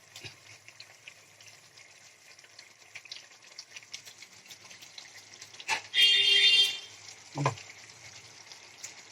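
Fried eggless vegetarian 'eggs' are added one at a time to a curry in a pan. A faint, quiet sizzle runs throughout, broken near the end by a few short, louder bursts of hissing and splashing.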